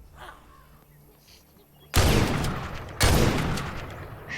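Two loud, booming shotgun blasts in the video game The Last Stand Aftermath, about a second apart, each followed by a long ringing decay after a quieter lead-in.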